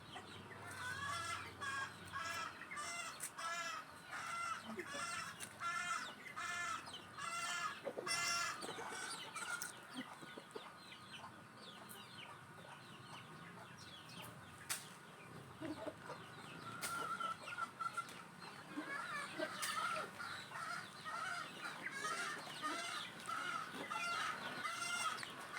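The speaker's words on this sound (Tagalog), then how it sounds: "Inalpasan na lahat ng sisiw." Chicks and hens in a Filipino backyard flock at feeding time, with steady overlapping clucks and peeps close by. Some sharper calls stand out over the busy chatter, and a rooster-like crow comes through at moments.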